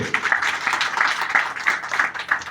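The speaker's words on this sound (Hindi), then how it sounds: "जोरदार तालियां आपके कामयाब अपलाइनों के लिए" Seminar attendees in Sarkaghat give vigorous applause for their successful business uplines, a brief stretch of group clapping with a faintly pulsing rhythm at moderate loudness.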